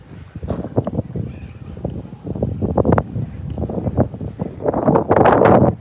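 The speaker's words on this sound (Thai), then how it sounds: "ลมแรงมากเลยนะครับ" Strong wind buffets the microphone at a warehouse construction site, a steady loud rumbling gust noise that swells toward the end, mixed with someone speaking throughout.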